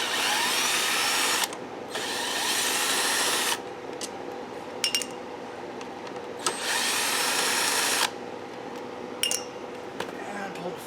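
Power tool in bursts of loud whirring as parts come off a Troy Bilt mower, several long runs separated by pauses with small metallic clinks and handling noises, close.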